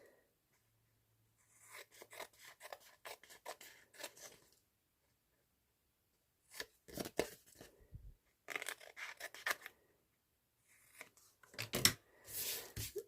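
Close, quiet scissors snip through paper with still-tacky glue in several short bursts of crisp cutting and rustling, separated by silent pauses.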